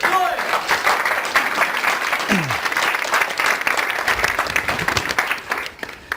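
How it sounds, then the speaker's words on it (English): An audience at a conference talk on impostor syndrome breaks into loud, sustained applause as a speaker comes on stage. A voice is briefly audible at the start, and cheers rise over the clapping. "Please give a massive round of applause to Jim J. Joy."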